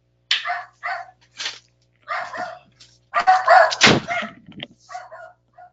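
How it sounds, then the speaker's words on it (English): A pet dog indoors barks in short, loud bursts, a dozen or so sharp barks in an irregular rhythm with brief gaps between them. "My dog's barking for no apparent reason"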